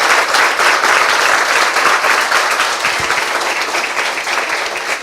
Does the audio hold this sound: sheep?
no